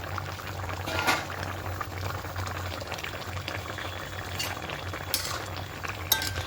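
Tilapia fish curry with papaya and potato simmering in an open pot, a steady bubbling boil with soft clinks of a utensil now and then, continuous and moderately close.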